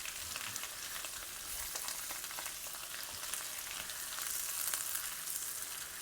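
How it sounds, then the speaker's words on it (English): Dense, bright hiss of pork belly frying in hot oil in a wok on high heat, close and continuous with scattered crackles and fine spatters throughout. "Listen to that nice sizzle."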